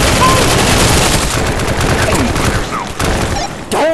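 Heavy machine gun fire in a close-quarters video game, a loud, dense, continuous burst of rapid shots with brief dips in intensity.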